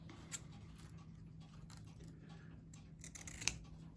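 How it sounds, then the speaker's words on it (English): Scissors snip ribbon on a handmade Easter bunny craft, a few quick close cuts over quiet room tone, with a sharper snip near the end. "just trim your ribbon. So you want to do that on both sides"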